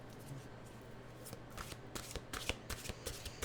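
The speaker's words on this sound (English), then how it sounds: "Let's get a mantra going here through our mystical wisdom cards." Mystical wisdom cards being shuffled by hand, close and fairly quiet, with a run of quick riffling bursts and soft card slaps in the second half over a faint background hum.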